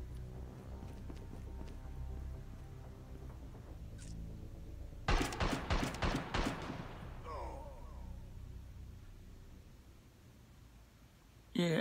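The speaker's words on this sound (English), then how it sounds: "Someone is shooting at me." Gunfire in Call of Duty Mobile on an iPhone: a quick burst of sharp, rapid shots in the middle after a quieter rumbling stretch, followed by a softer rattling tail and one more abrupt hit at the end.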